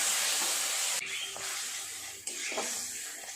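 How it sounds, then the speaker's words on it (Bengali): A mix of spices for egg curry is sautéed in a pan with a splash of water, hissing and sizzling steadily, with stirring scrapes and a few abrupt shifts in the sizzle. "অল্প একটু জল দিয়ে সমস্ত মশলাগুলো একসাথে কষিয়ে নেব"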